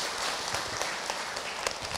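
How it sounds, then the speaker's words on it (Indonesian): A steady wash of audience applause fills a religious study gathering on etiquette when visiting, a continuous crackle of many hands clapping at moderate loudness without individual claps standing out. "Tepuk tangan buat kita semua."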